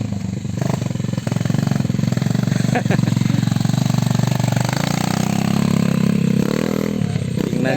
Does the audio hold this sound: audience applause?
no